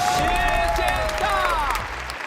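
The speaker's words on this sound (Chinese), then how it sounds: "来，掌声给他们！" A studio audience on a Chinese cooking show applauds and cheers, a loud close burst of clapping with crowd noise while a voice speaks over it.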